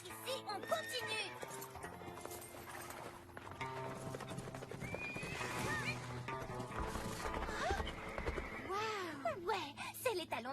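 A stallion neighs in shrill, wavering whinnies while hooves clop in an uneven rhythm, layered over music and background voices in a dramatic ranch scene.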